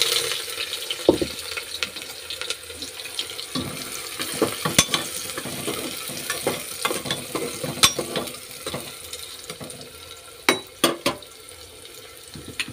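Chopped onion fries in hot oil, a moderate crackling sizzle under repeated clinks and scrapes of a spatula being stirred, with a few louder knocks near the end; no talking.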